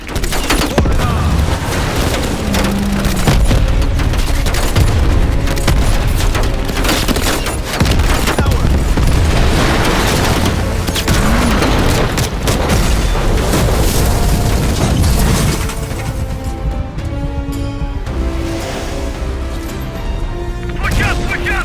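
Loud, continuous gunfire and booming explosions on a battlefield in Call of Duty: Black Ops Cold War, with rapid shots, heavy blasts and a rumbling barrage throughout, easing off near the end, with voices shouting underneath.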